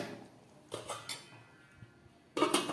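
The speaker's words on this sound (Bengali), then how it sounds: "গ্যাসটা অফ করে ঢেকে দিলাম।" A metal lid set down over a pot of vegetarian kachori curry on a gas stove, heard as a few light clanks and clinks of cookware, ending in a louder metallic rattle.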